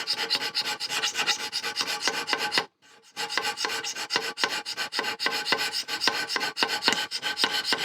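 Steady rasping strokes of a hand scraper working across a cast mini lathe saddle, close and continuous, with one short pause before the rhythmic scraping resumes.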